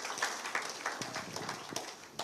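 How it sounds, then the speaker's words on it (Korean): Scattered applause from a church congregation after thanks are given to the teachers, evangelist and pastor's wife, a short burst of claps heard at a moderate distance in the sanctuary. "감사의 박수 한번 드리겠습니다"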